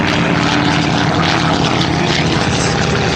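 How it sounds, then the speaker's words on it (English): A North American T-28 trainer aircraft flying overhead at an airshow, its propeller engine a loud, steady, broadband roar that fills the whole stretch without a break. "Right overhead right now, the T-28 aircraft."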